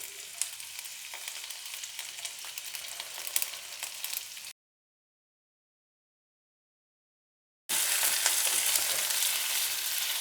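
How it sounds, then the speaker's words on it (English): Onions, ginger and green chilies sautéing in hot oil, a bright crackling sizzle with stirring, broken by a stretch of silence before the frying resumes loudly. "we'll saute this for another minute"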